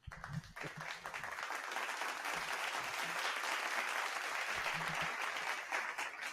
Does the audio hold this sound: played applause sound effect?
yes